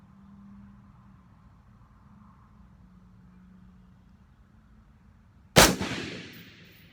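AR-15 rifle fired at an outdoor gun club range, one sharp, loud, close shot cracking after several seconds of quiet ambient hum and ringing out in a short decaying echo.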